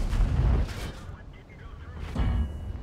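A tank shell ricochets off the armor of a T110E5 in World of Tanks, a heavy booming impact that rolls out, then a second deep thump follows about two seconds later, both loud and close.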